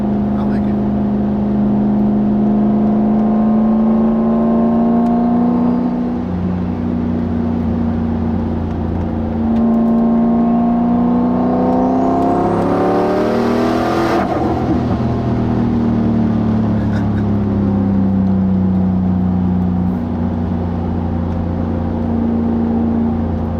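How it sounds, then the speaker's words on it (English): A turbocharged car engine with a Xona 10569 turbo idles and revs with a deep, rumbling exhaust note, wastegate open and dumping, rising in pitch around the middle before settling back to a steady drone. "The wastegate's just kind of open dumping right now. Definitely can hear that."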